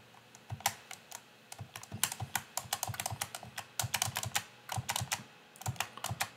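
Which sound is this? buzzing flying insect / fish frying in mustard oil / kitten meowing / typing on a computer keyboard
typing on a computer keyboard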